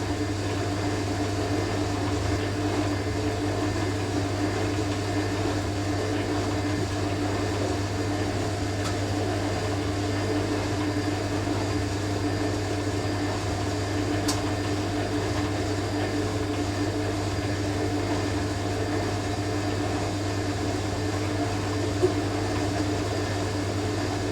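A vintage 1980s Hoover A3060 Electronic 1100 washing machine in its final spin, heard from a distance as a steady, continuous mechanical hum with a strong low drone that holds throughout.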